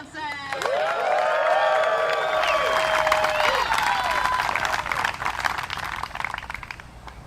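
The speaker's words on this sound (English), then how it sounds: "let's give a loud round of applause for Ella Hansen" Disc golf tournament spectators at the Discmania Challenge final round erupt in loud applause with whoops and cheers as a leading player is introduced, clapping swelling quickly and holding strong before slowly thinning.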